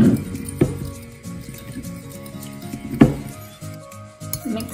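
A fork whisks scrambled eggs in a bowl, giving a few sharp clinks against the side and soft tapping strokes between them, close up over a steady tonal background.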